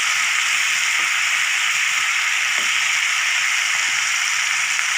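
Tomatoes and onions sautéing in a pan for a vegetable kurma, a steady, close hiss of sizzling that holds evenly for several seconds with faint clicks beneath and no talking.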